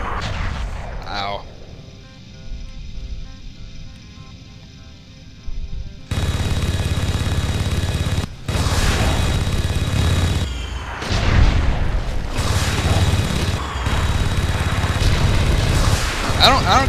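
Rocket explosions in Red Faction, a series of loud booms and blasts with heavy rumbling bursts, the action growing dense and continuous after a quieter opening.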